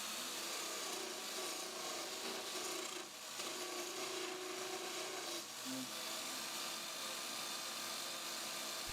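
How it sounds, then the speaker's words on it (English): Wood lathe driven by pedalling an exercise bike, its cutting tool scraping steadily against spinning wood in a continuous rasping, rubbing noise with faint mechanical whir, moderately close and without speech. "I'm setting it up as a lathe, and I try to operate the wood lathe while using the exercise bike"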